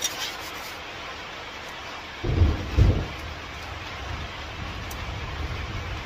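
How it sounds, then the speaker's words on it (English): Thunder rumbles in two deep, close booms over a steady hiss of rain, the rest of the time a continuous rainy wash. "Boomy boom boom goes the thunder."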